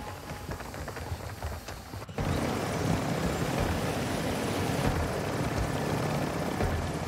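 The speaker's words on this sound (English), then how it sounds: "Okay, back to the chopper." A helicopter in the DMZ video game gives a steady rotor and engine roar that jumps noticeably louder about two seconds in, then holds constant with no voices.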